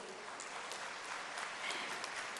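Steady audience applause at an outdoor tribal heroes' ceremony at a ground in Jabalpur, even and moderately distant clapping throughout.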